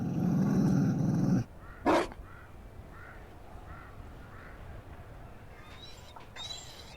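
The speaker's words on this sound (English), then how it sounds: "You found a dog." A Mabari war dog in the video game Dragon Age Inquisition growls, a loud low rumble at the start followed by a short burst, then fainter ambient game sounds.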